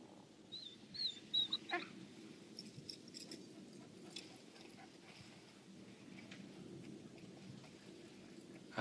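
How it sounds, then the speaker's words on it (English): A dog in a 1977 Yeti monster film gives a few short, high whimpering whines early on, faint over a steady low rumble of outdoor background noise, then fades into quiet ambience. "That's the kid's dog."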